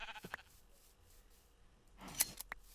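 Sheep in the Minecraft video game bleat while being sheared, with a short snipping of shears; two brief bursts near the end stand out over a quiet background.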